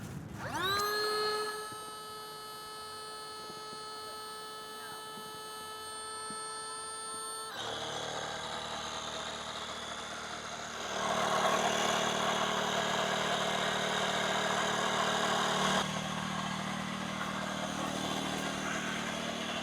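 Two-stage electric air pump inflating a kayak, starting with a rising whine that settles into a steady high motor hum, then shifting into a louder, rougher drone, continuous and close, no speech.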